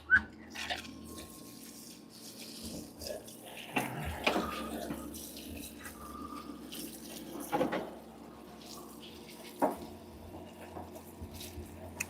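Solvent fluid running and splashing in a garage parts cleaner tub as a part is soaked, a steady trickling flow with a few louder clunks and sloshes, close by.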